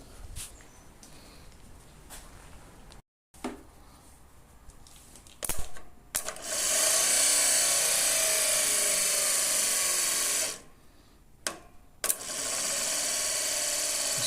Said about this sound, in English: Starter spins, but it doesn't sound that happy, and it also stopped engaging the Bendix.